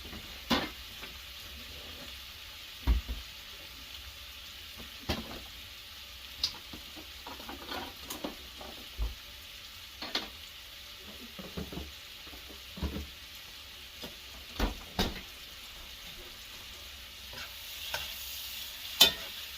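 Shrimp frying in a pan on an electric stove, a soft continuous sizzle broken by occasional stirring taps and clicks, close and steady with no talking.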